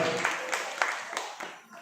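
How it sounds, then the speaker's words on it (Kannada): Applause from an audience at a public event honouring elders, scattered claps rising and falling beneath a speaker's voice over a microphone. "ತಿಳಿಸಿರ್ತಕ್ಕಂಥ ಹಿರಿಯರಿಗೆ ಮತ್ತೊಮ್ಮೆ ಜೋರಾದ ಚಪ್ಪಾಳೆ ಮೂಲಕ ಅವರಿಗೆ ಗೌರವವನ್ನು ಅರ್ಪಿಸುತ್ತಾ"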